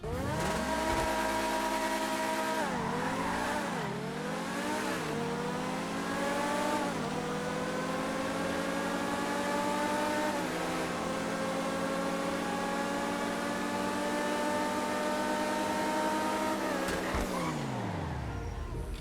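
High-revving sports car engines racing in GTA 5, with the Grotti Turismo Classic among them, climbing through gears in repeated rising whines, loud and close, with brief shift dips and a sustained high-pitched run before cutting off near the end.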